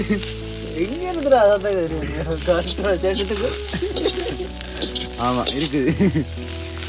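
Kottu sizzles and fries on a hot griddle beneath loud music with a singing voice, while people talk briefly over it.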